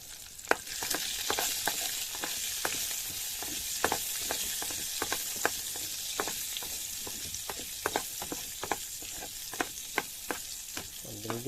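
Ingredients sautéing in a pan, a soft continuous sizzle broken by frequent sharp clicks and taps of a utensil stirring against the pan, even and fairly quiet, with no talking.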